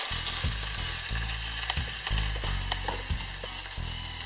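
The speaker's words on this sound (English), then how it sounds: "this ginger and garlic just needs to cook just for a few minutes" Ginger and garlic fry in a hot pan with a steady, close sizzle, while a low hum runs beneath and faint stirring clicks break in now and then.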